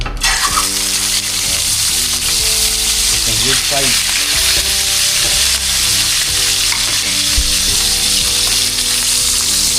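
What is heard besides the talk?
tilapia frying in oil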